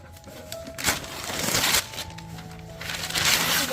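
Paper wrapping on a cricket memorabilia package holding a signed bat is ripped apart at close range in several rough tearing bursts with crinkling between them, and no voices.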